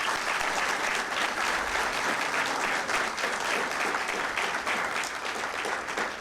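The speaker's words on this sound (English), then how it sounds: "A big clap for your parents." Audience at a campus placement orientation ceremony for chartered accountants claps for their parents, a sustained, even wash of many hands clapping, moderately distant and continuous for several seconds without talk.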